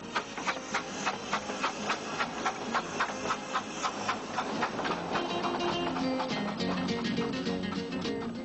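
A 15-inch scale steam locomotive stands in its engine shed, hissing steam with a rapid, regular chuffing pulse over a continuous breathy roar.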